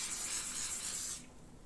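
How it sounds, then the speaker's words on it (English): Starch sprayed from a can onto a piece of striped or checked shirt fabric for a hand-finished placket, heard as one steady, close hiss lasting just over a second before cutting off. "Secondly, it is useful to spray starch this piece a bit."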